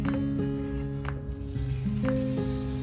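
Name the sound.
butter sizzling in a pan before frying chicken breast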